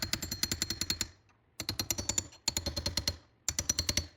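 Rapid metallic tapping on a stubborn nut of an old Ford F100 radio volume control, delivered in four quick bursts of about a dozen sharp close hits each, separated by brief pauses.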